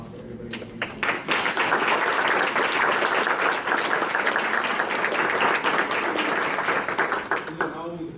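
An audience applauds candidates at a forum, a dense, sustained round of clapping that swells quickly and fills the room for several seconds before tapering, with a voice faintly underneath.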